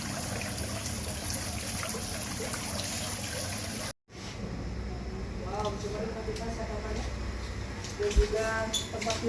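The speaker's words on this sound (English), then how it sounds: "Even there's own little waterfall in the reception area." A steady trickle and splash from a small indoor waterfall fills a hotel reception area, briefly cut off, then resumes under soft speech and background murmur.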